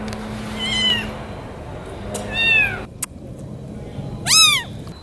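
A scared, hungry feral kitten meows three times, with long pauses between, each call loud and near, against quiet background noise.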